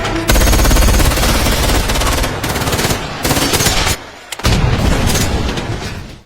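Loud, rapid film gunfire from guards fighting back against robbers rattles in sustained automatic bursts with a brief pause, then resumes before fading out.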